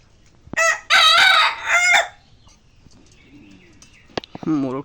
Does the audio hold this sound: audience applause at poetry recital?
no